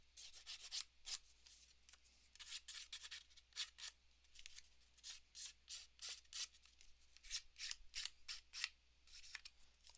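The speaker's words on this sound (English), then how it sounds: "we're going to just take our scissors and rough the edges up a little bit" Scissors rubbed against paper edges to rough them up for a handmade card, producing a string of close, crisp scraping strokes in quick irregular bursts, with no talking.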